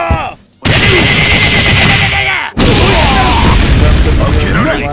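Ralph's Vulcan punch combo in the fighting game KOF XV, a loud dense barrage of rapid booming hits and impact bursts that runs almost continuously with one brief break, with game voices mixed in.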